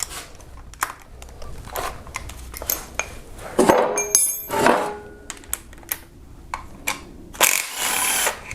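Timing cover bolts of 10 and 12 mm being removed from a Kia Optima engine during an oil pump replacement, heard as scattered metallic ratchet clicks, tool clinks and short whirring bursts, close by and irregular.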